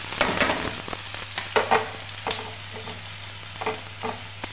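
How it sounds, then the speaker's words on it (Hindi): Onions and cumin sizzle while frying in a pan, with repeated scraping and stirring strokes of a spoon breaking over a steady hiss; close and moderately loud, no voices. "प्याज डाल देंगे इसमें इसमें थोड़ा चला लेंगे भून लेंगे।"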